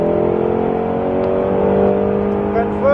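A Mustang Shelby GT500 engine drones loudly at high revs under full throttle on a track, holding a steady pitch that climbs slightly toward the end.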